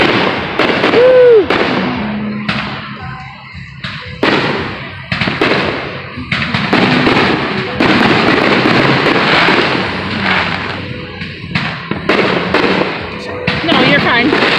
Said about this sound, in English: this is a whole bunch of fireworks that people did all those